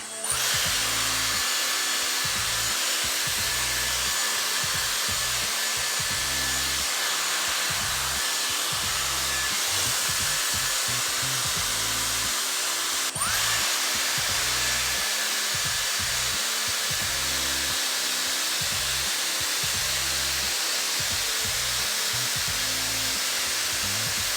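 A Dyson Airstrait hair straightener in wet mode at 230 degrees blows hot air in a steady, loud, close whoosh with a faint pulsing motor hum underneath, continuous throughout.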